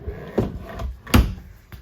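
Pull-out drawer on the kitchen island of a 2022 Keystone Montana 3231CK RV, heard as two distinct thumps and knocks from the drawer sliding and stopping, close and fairly loud, with a faint knock near the end.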